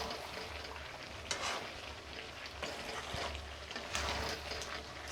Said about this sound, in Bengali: কড়ায় যেহেতু আদা আর লঙ্কাটা লাস্টে দেওয়া হয়েছে নাড়ছি খুব ভালো করে